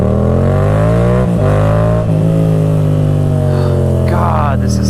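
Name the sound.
motorcycle exhaust revving with deep note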